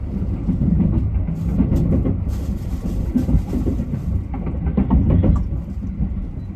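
The Sunrise Seto sleeper train runs past a station on the Ito Line at night, a loud, steady rumble and rattle of railcars with clickety-clack joint beats throughout, heard from on board.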